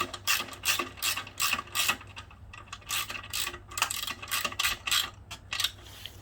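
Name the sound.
tightening bolts on a Honda CB motorcycle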